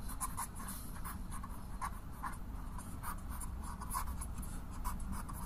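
A maths calculation being written out by hand, faint scratchy pen strokes in short bursts against a quiet room hiss.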